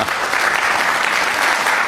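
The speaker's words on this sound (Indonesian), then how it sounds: "Tepuk tangan dong." Loud, steady applause from an audience at an event, many hands clapping in an even wash for about two seconds with no pauses.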